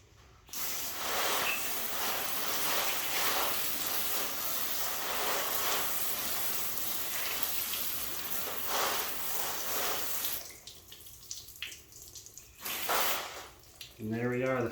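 Water spray rinsing a car wheel, a steady loud hiss that runs for about ten seconds and then breaks into spattering and dripping with brief voices near the end.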